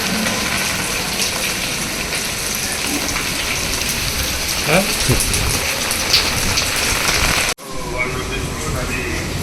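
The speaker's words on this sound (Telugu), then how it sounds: "వాటర్ లీకేజ్ చూడండి చిన్న పని పది రూపాయలు ట్యాప్ బిగించుకుంటే పోయేది అది" Water leaks and gushes steadily from a loose tap in a hostel, a dense, rain-like rushing that runs without a break before a brief cut near the end.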